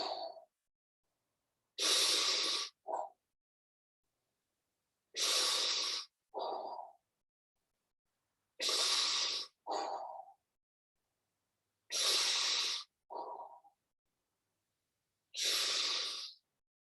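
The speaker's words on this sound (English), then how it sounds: "and breathe in" Slow, deep breaths during a relaxation stretching exercise: five long airy inhales, each followed by a shorter exhale, evenly spaced with silence between, close and clear.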